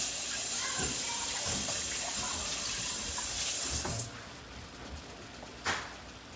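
Water runs steadily from a tap into a pet's water bowl for about four seconds, then stops, leaving quiet room noise and a brief clink.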